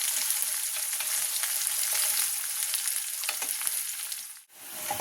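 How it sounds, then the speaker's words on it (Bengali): Garlic and onion frying in hot oil give a steady, close sizzle with a bright crackling hiss throughout, briefly cutting out near the end. "পেঁয়াজটা ভাজা ভাজা হয়ে গেছে"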